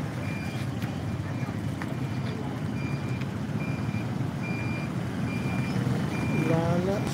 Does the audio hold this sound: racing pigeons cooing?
no